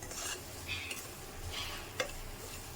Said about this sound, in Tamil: இந்த ரவையை வந்து இந்த எண்ணெயிலே வறுக்கணும்